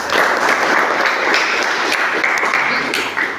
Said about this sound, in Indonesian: Oke ya, luar biasa, tepuk tangan.